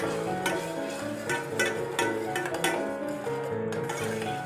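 A spoon clinks and ticks lightly against a pot, stirring tomato puree with roasted cumin powder and boiled lentils, the small taps repeating irregularly over steady background music.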